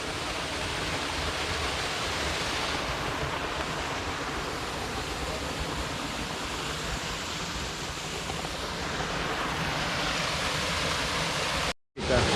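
El Chorrón waterfall in Villamayor, Asturias, a steady, loud, close roar of falling water that fills the scene without a break until it cuts off abruptly near the end.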